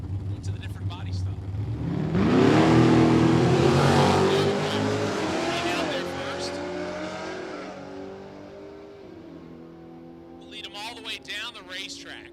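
A 2019 Corvette Grand Sport launches down a drag strip at a live race event, its engine roaring up loud and close, then fading as the car pulls away, with announcer-style voices over the top.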